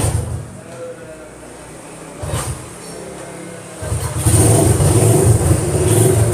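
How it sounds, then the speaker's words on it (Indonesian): An old Honda CB motorcycle engine idling a little low after sitting unused, a low steady rumble nearby that grows louder and rougher toward the end, with someone talking over it. "Langsamnya kurang tinggi dikit ini, karena lama nggak dipanasin."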